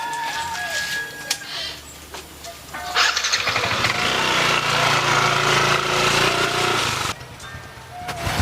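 Motorcycle engine starting and revving nearby, a rough mid-pitched drone that swells and holds for several seconds before cutting off, with faint background noise.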